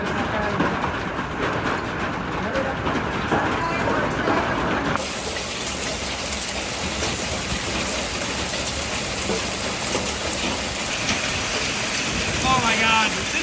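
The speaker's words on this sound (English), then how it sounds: "That sound is hail." Hail pounding an Airstream trailer during a Nebraska storm, a dense continuous roaring clatter on the metal shell that grows heavier partway through, loud and unbroken.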